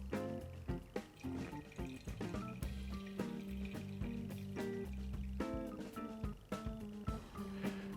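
Hot water pours steadily over a bed of coffee grounds in a Kalita filter, a continuous soft trickle and splash heard alone at close range, with faint music underneath.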